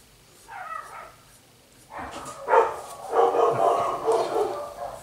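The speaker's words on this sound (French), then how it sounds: "on a entendu un chien à l'extérieur" A dog barking outside, a few muffled, distant barks and yips coming through from beyond the room, not very loud, with a brief soft sound before them.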